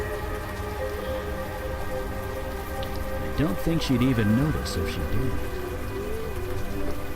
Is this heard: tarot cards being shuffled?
no